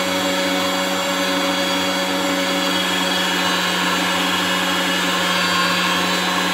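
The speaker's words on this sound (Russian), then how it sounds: "Здесь работает мясорубка. Включаем." An electric meat grinder runs continuously for herring paste, giving a loud, steady motor whine with a constant hum.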